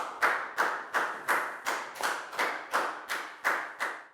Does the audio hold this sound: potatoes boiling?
no